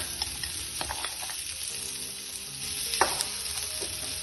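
Mashed potato is stirred into a hot frying pan for a sandwich filling, producing a soft steady sizzle with occasional scraping and clinking of the spatula against the pan.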